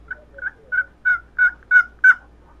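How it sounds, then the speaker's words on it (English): Seven soft, evenly spaced yelps on a hand-made turkey call, played as quiet morning tree calls, each note slightly louder than the last, close and alone with no talking. "The first calls are the morning calls or tree calls or morning yelps, and they're a lot softer sounding"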